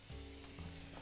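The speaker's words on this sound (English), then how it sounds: "you can just get them right in here to a nice hot pan" Lamb loins sear in olive oil in a hot pan, a steady close sizzle with a low crackling hiss throughout, no voices.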